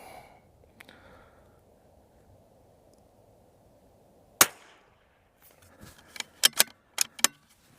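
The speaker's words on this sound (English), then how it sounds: "So 190 yards offhand shot." A Vudoo .22LR rifle in an MDT ACC Elite chassis is fired offhand at a 190-yard target, giving one sharp, close crack against a quiet outdoor background, followed by a few lighter clicks and handling sounds.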